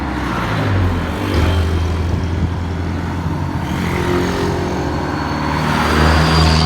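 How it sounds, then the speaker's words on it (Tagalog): Busy, smoky road traffic with many vehicles on a walkathon route: a loud, continuous wash of engine rumble and tyre noise, with cars and trucks swelling past close by. "Medyo mausok na dito, madami ng sasakyan."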